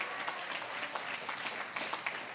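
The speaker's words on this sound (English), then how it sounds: "a round of applause for the mayor." A crowd at an accessibility awards ceremony for New York mayor Eric Adams gives a round of applause, a brief, fairly faint patter of clapping that is even and continuous with no voices over it.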